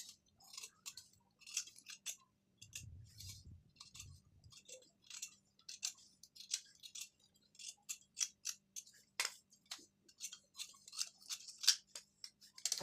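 Scissors snip through blouse fabric being cut to a 34 size pattern, with many quick, crisp close-up cuts in an irregular rhythm and a soft rustle of cloth partway through.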